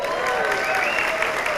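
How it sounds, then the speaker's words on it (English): Audience applause at a live speakers' event, steady dense clapping from a crowd, fairly loud and continuous throughout the short stretch with no talk over it. "So let's get the clapping out of the way because this is going to be an awesome day, an awesome event."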